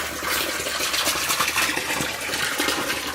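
Water pouring from 1-inch tubing out of aquaponics grow beds into a pond, a steady close splashing trickle that runs continuously without pause.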